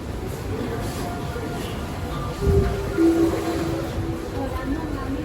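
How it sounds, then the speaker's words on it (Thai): An old-generation Bangkok Skytrain train rumbles in at a station, low rolling noise with a couple of brief squealing brake tones midway. "รถไฟฟ้าขบวนเก่ามาพอดีเลยครับ"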